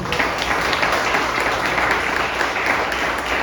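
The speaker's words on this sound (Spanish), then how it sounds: "Démosle un aplauso al Señor por eso." A church congregation at a communion service claps together, loud and close, in a steady sustained burst with no speech.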